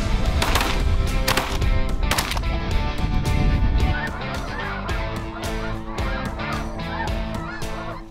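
A large flock of thousands of snow geese honks continuously in a field, a dense, loud chorus of overlapping calls that stays steady throughout.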